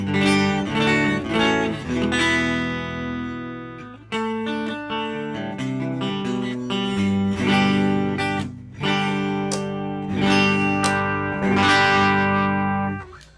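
Clean electric guitar on the neck pickup with a warm, round tone, strummed chords and picked single notes ringing out one after another with a soft sustain.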